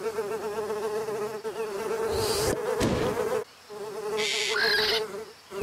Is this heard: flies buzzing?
yes